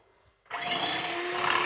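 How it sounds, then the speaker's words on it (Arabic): An electric hand mixer starts up abruptly after a short quiet moment and whirs steadily at high speed while beating eggs for a chocolate roll sponge, close and continuous to the end. "نجيب الباتور"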